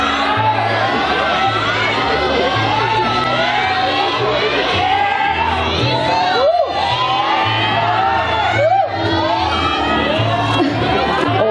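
A large crowd of fans shouts and cheers continuously at a BNK48 Christmas party event, loud and dense, with overlapping voices and whoops throughout.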